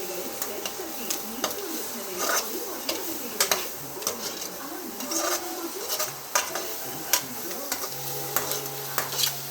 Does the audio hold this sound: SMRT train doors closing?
no